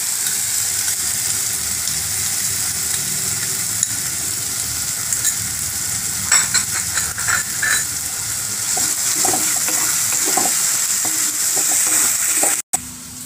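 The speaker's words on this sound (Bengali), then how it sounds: "পোস্ত বাটা দিয়ে একটু নাড়িয়ে নিই। এবার কাজু বাটাটা দিয়ে দিলাম।" Masala sizzling and frying steadily in a pan while it is stirred with poppy seed paste, then cashew paste, for shahi butter paneer; a continuous close hiss with intermittent scraping and stirring noises and a brief break near the end.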